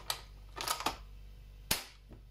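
A few soft, muffled pops with mechanical clicks, then another sharp shot from a KJW M700 airsoft sniper rifle with a suppressor; quiet, close, with no talking.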